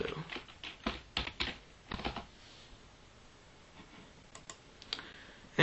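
Close computer keyboard typing: a quick run of sharp key clicks, a pause, then a few more taps and a final louder keystroke, with no voice.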